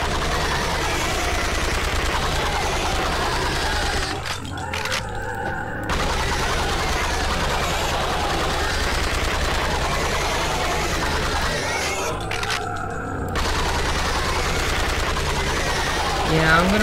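Rapid automatic gunfire from a video game weapon, a steady rattling burst running nearly the whole time with two short breaks, loud and up front under a constant mixed game soundscape.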